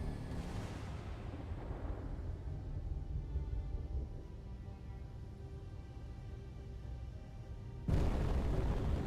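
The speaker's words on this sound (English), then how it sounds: "hearing these cannons going off every now and then" Cannons fire in the Space Engineers video game: a heavy booming blast that decays into a long rumbling tail, then another loud low explosion bursts in near the end.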